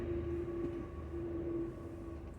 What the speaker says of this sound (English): Sorry for the train, guys.